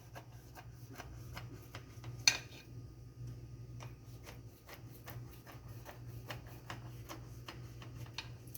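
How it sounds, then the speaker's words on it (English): A knife scores through crisp layered phyllo of baklava, making a steady series of light, dry crackling ticks with one sharper crunch near the start, close and quiet over a low background hum. "Take our knife, and we cut this way."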